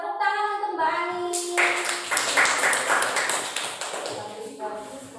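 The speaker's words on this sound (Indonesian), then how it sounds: "Tepuk tangan untuk Mbak Ani." Children in a primary classroom applaud a classmate during a lesson, a dense patter of scattered hand claps swelling for a few seconds after a teacher's voice, then thinning out as talk resumes.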